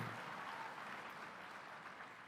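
Applause from the audience at a presidential event for the Asian Pacific American community: quiet, even, continuous clapping heard from a distance, slowly fading toward the end.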